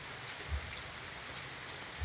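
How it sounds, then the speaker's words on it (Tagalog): Rain falls steadily during a typhoon, a soft even patter of drops on surfaces, fairly faint, with two brief dull low thumps breaking through and no talking. "May bagyo, di ba? May bagyo."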